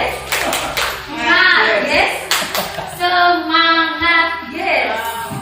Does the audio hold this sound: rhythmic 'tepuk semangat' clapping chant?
yes